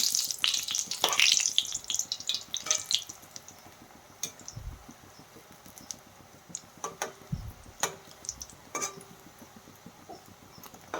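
Pakoras, fritters of battered vegetables, frying in hot oil: a busy crackle and sizzle that is loudest at first and then settles into scattered ticks and pops, close by with no talk.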